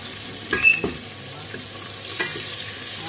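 Chopped onion fries softly in a pan, a steady low sizzle with a few spoon or spatula knocks and scrapes near the start and one more later.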